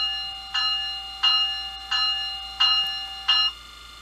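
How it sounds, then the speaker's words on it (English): A Bachmann HO scale Amtrak ACS-64 Siemens City Sprinter model locomotive's DCC sound decoder rings an electronic bell, five bright, evenly spaced strikes each decaying before the next, clean and alone. "Number 1, of course,"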